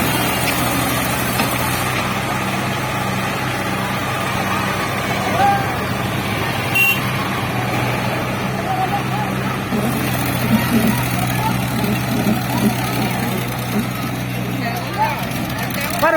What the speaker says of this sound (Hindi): ये है ट्रैक्टरों का कंपटीशन।